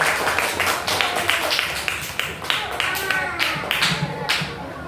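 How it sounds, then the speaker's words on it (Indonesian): A classroom group claps for a student group in a quick burst of scattered hand claps lasting several seconds, close and fairly loud, with a few voices mixed in. "Bagus, tepuk tangan untuk kelompok."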